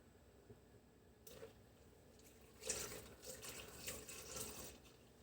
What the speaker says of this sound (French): On va venir insérer 600 g de lait entier.